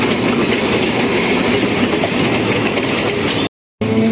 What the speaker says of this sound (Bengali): বজবজের ট্রেন ঢুকে গেল।